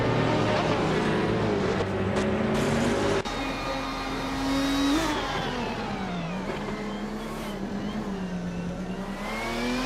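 Race car engines roar and shift pitch in a racing video game, with a 2004 Porsche Carrera GTR among the pack battling closely, loud and continuous with revving sweeps and a sharp gear change early on.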